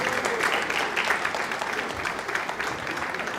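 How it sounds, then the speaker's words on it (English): Applause from an audience at a devotional celebration, steady clapping from a crowd lasting a few seconds at moderate level, without a break. "Big round of applause for Vrindavan Chandra Prabhu."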